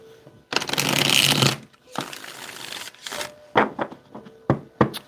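Tarot cards being shuffled by hand in a long riffling burst, then several shorter crisp shuffles and taps, close and clear with no talking.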